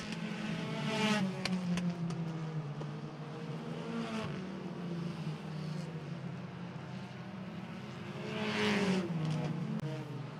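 Race cars lapping at Jefferson Speedway during a 2025 race, engines droning and rising as packs pass, heard from a distance with two louder surges of cars sweeping by.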